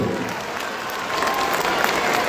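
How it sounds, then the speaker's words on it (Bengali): Steady applause from an audience at a B A F Shaheen school event in Dhaka, cheering the students; dense, continuous clapping that holds for the whole stretch without talk. "আমরা আমাদের শিক্ষার্থীদের জন্য একটা জোরে একটা করতালির আশা করছি"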